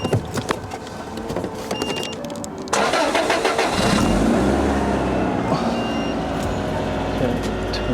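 A Toyota Altezza's engine cranks and catches, then settles into a steady idle that fills the space loudly, with no talk over it.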